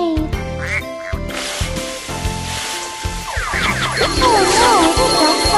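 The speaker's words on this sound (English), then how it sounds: "More ducks are coming." Cartoon ducks quacking repeatedly in the Baby Panda's Carnival kids' game, loud bright quacks over bouncy game music and sound effects.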